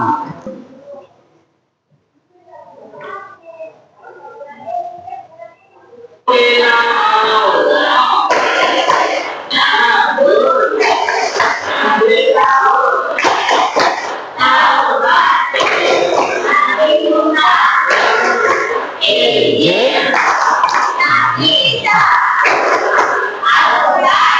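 Children in a classroom perform the tepuk kitab Allah clapping chant together, a loud, dense burst of group voices and rhythmic claps that starts abruptly after a few quieter spoken lines and continues steadily to the end.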